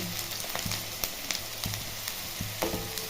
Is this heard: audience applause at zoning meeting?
no